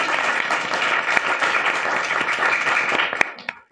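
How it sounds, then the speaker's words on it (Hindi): A group at a Uttar Pradesh school claps loudly for a young schoolgirl, dense vigorous clapping that thins into a few last scattered claps at the end. "थोड़ी जोरदार तालियां बजा दो एक बार"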